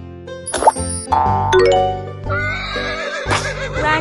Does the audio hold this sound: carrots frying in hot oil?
no